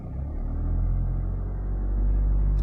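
A car engine held at about 1500 rpm with the clutch fully pressed in first gear, giving a steady, close, low rumble that holds even throughout, with no talking.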